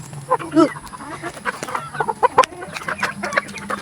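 Roosters and hens cluck and squawk close by at morning or afternoon feeding, in a busy overlapping stream of short calls with a few sharper cries.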